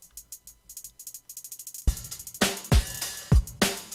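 Chopped hi-hats in an Undertale remix, a rapid, stuttering run of bright ticks with small gaps cut into the pattern, then joined by punchy kicks and crashes as the full beat drops in.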